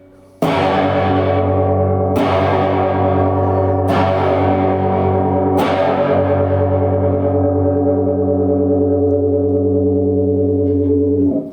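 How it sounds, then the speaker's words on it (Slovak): Distorted electric guitar played through a combo amp with a chorus effect in the effects loop: four loud strummed chords about two seconds apart, then one long ringing chord with a swirling, wavering shimmer that fades slowly. "keď je teda kombo v podstate skreslený zvuk, ale chorus je zapojený cez efektovú slučku"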